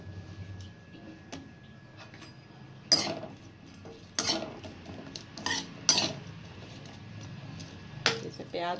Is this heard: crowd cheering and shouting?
no